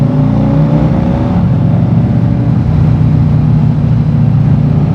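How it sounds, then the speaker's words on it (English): Engine roar from a motorcycle on a ride through mountain roads, a loud, steady drone that stays close and constant throughout, with no talking. "it happens every time I try to quick downshift into first."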